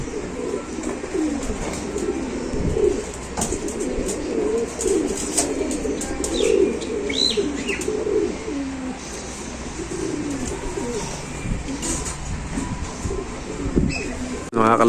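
Racing pigeons coo repeatedly after release, soft throaty calls layered over light outdoor ambience with scattered chirps and brief background voices.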